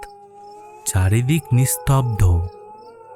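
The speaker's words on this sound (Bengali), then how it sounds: "শুধু বাইরে থেকে একটানা ঝিঝি পোকার ডাক" Crickets chirp steadily through a quiet night in a rainy-night Bengali horror cartoon scene, a faint continuous background beneath a narrator's voice.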